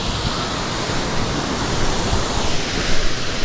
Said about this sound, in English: Huge waterfall.